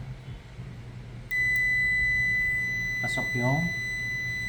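A multimeter continuity test beep begins abruptly and holds continuously, a clear high tone, while a person talks briefly over it during repair of an ASUS TUF Gaming laptop with no power.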